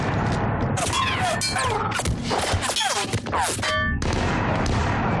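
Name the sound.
gunfire in video game Mass Effect 3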